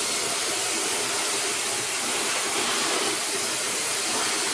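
A negative ion hair dryer fitted with a diffuser blows continuously, giving a loud, even airy hiss with no pauses and no voices.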